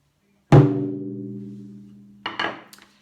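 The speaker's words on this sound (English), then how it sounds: "a strike of the bachi on the centre of the drum" A single taiko drum struck once in the centre with a bachi, a loud booming hit whose deep tone rings out and fades slowly, followed by a short burst of brighter clattering near the end.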